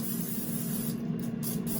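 Canola oil cooking spray misted onto egg bite molds for an air fryer: a steady, close hiss, with brief pauses near the end where the nozzle is released and pressed again.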